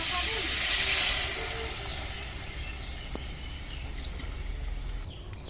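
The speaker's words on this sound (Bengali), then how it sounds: "এখন গরম জল দিয়ে দেবো। জল দিয়ে দিচ্ছি।" Hot water pours into sizzling spiced fish curry with puti fish, potato and vegetable stems, giving a loud steamy hiss that swells then settles into a steady bubbling simmer, close up.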